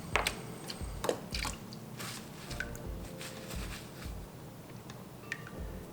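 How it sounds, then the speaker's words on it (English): A Coticule sharpening hone is rinsed with clean water, making close, wet splashing and squishing bursts at an uneven pace over a low rumbling background. "I'm going to rinse the Coticule hone off, and I'm going to get just some clean water on there."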